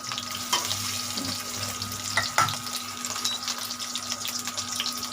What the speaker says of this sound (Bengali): এইভাবে আস্তে আস্তে ভাজা হতে থাকো।